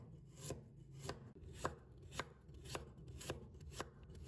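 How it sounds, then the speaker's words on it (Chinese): Knife chopping peeled fresh ginger into thin slices on a board, with about eight crisp, evenly spaced cuts standing out over a low kitchen hum, no voices. "接下来再准备1块去皮的生姜， 给它切成薄片。"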